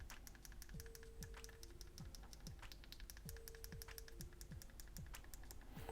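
Volume buttons on a Samsung Galaxy S21 FE inside a Spigen Slim Armor CS case give a quick run of small, crisp, close clicks in a steady rhythm, very quiet overall.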